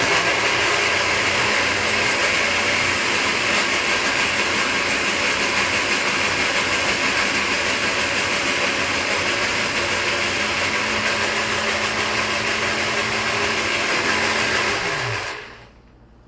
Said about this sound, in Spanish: Y esto lo vamos a colocar en la licuadora.